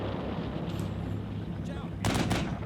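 Tank gunfire in the Combat Mission Cold War video game, a low rumbling battle bed with a loud burst of cannon fire near the end, while a voice talks over it.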